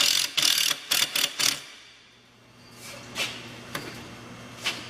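Impact driver driving a 1 inch by 5/16 self-tapping screw while assembling a carcass cart, a cluster of sharp rapid hammering bursts up close, then quieter scattered clicks and knocks.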